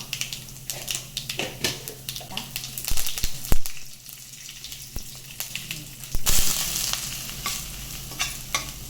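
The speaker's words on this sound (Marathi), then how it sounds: "आपण कट्ट्याच्या आमटीला फोडणी देऊया. थोडं तेल," Oil sizzles steadily in a pan as mustard seeds, cumin and ajwain are tempered for Maharashtrian katachi amti, with sharp crackling pops and stirring clatter close by.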